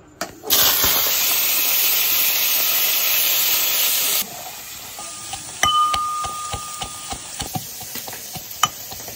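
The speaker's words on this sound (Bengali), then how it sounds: "তার জন্য প্রথমে মাথাটা ভেজে নেবো মাছের।" A hilsa fish head frying in hot oil in a pan, giving a loud, steady sizzle and hiss that drops partway through and then carries on more quietly with occasional clinks and stirring sounds.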